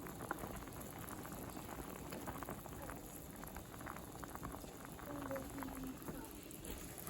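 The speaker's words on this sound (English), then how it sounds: "Let it fry about 10 minutes" A steady, dense crackle and bubbling hiss runs throughout at low volume, gumbo roux frying in a pot, with no voices.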